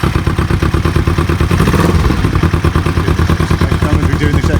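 A cold motorcycle engine on a bobber idles steadily with a fast, even chugging pulse and slight mechanical clatter, close by and loud.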